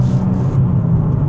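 A Nissan 370Z with a manual gearbox idles in third gear, its engine rumbling low and steady with a slight lift in revs, close and alone.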